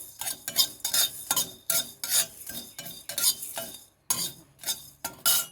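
Whole spices frying in a pan for a sweet mango pickle, stirred with a metal spoon: rhythmic scraping and clinks against the pan over a light sizzle, close and fairly loud, no voices.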